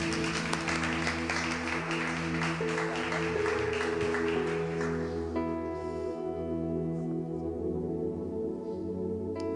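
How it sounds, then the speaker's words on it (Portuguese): A church congregation claps at the close of an evening service, broad applause filling the first half over sustained keyboard chords that ring on alone once the clapping fades. "Vamos aplaudir a Deus pela vida deles."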